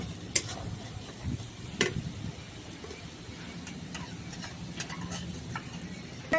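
Dry chili paste and Kashmiri chili frying in a pan for a Bengali tel koi fish curry, a steady low sizzle with a few sharp clicks of stirring scattered through, fairly quiet and close.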